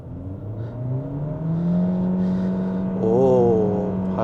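A Proton eMas 7 plug-in hybrid SUV accelerates hard from a standstill, its rising engine and motor whine climbing steadily in pitch and growing louder, heard from inside the cabin.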